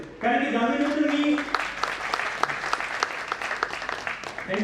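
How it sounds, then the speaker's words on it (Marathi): An audience breaks into loud, dense applause right after a speaker's voice. The clapping thins out into scattered claps toward the end. "थँक्यू सो मच टाळ्या फक्त राम सरांसाठी."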